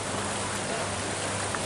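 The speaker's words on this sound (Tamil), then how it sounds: "அசாம் மாநிலத்தை புரட்டி போட்ட கனமழை வெள்ளம்." Heavy rain during a flood in Assam falls as a steady, dense hiss of water, loud and unbroken, with no voices.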